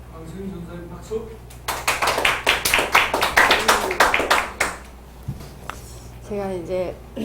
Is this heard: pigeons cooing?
no